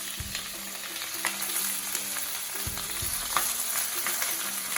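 Vegetables for sambar sizzle and fry in a pan, a steady crackling hiss with occasional stirring clinks and scrapes, close and continuous with no talking.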